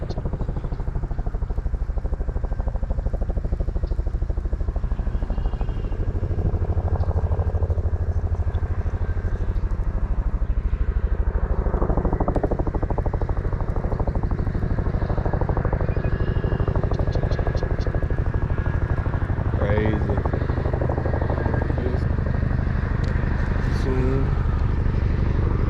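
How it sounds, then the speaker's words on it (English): A heavy rotor drone rumbles steadily throughout, loud and low with a throbbing beat, as a Chinook helicopter passes overhead while people talk beneath it by a backyard pond in central Illinois. "We got a Chinook that's gonna be flying right over the top of us"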